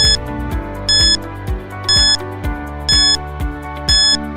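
Quiz countdown timer effect: a steady ticking pulse with bright beeping tones repeating about once per second, loud and alone over a held musical bed.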